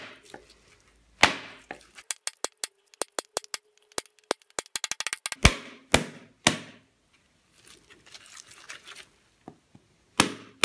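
A knife striking a coconut with a hollow sound, sharp separate knocks coming in irregular bursts and quick runs of rapid taps, close up and loud with quiet gaps between them.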